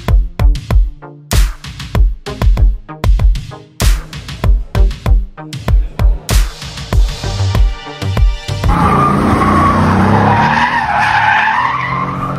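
Mercedes-AMG C43 driven hard on a track, with a rapid series of loud, rhythmic tire chirps and squeals followed by a long, sustained skid screech, all heard up close.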